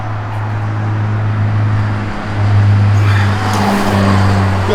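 A powerful 1970 Plymouth Road Runner engine rumbles low and steady nearby, swelling briefly as it revs before settling back to a deep, throaty drone.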